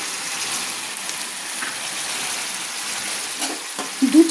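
Chicken pieces fry with ground coriander paste over a medium flame, giving a soft, steady sizzling hiss, with a few light stirring knocks near the end.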